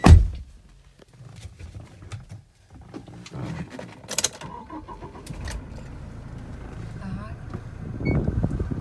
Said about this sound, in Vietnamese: Bây giờ em vô nổ máy cho quý anh chị nghe ha.